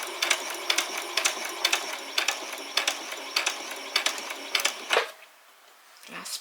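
A sewing machine runs in quick bursts stitching the seam of a basic dress, a rapid mechanical rattle broken into short runs, then it stops and the room goes quiet apart from a faint rustle.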